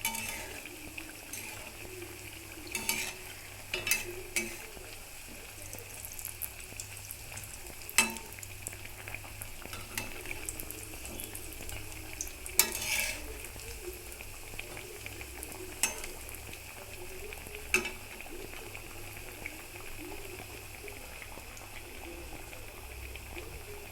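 Garlic-flavoured chops deep-fry in oil over raised heat, giving a faint, steady bubbling sizzle with occasional light clinks and taps over the top.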